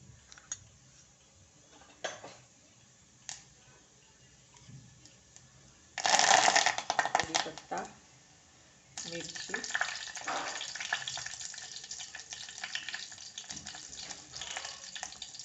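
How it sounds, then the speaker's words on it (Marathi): Cumin seeds hit hot ghee in a pot for tempering, bursting into a loud crackling sizzle that fades, then a lighter steady frying hiss with small pops continues. "फोडणीसाठी जिरं टाकते"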